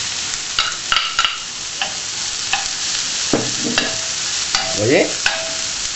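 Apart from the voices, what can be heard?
shallots and bell peppers sizzling and being stirred in a pan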